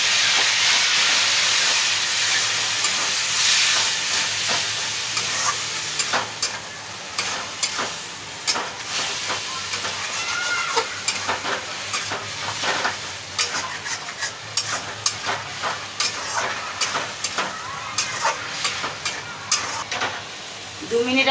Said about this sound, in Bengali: একটু জল দেবো যাতে মশলাটা না পুড়ে যায়।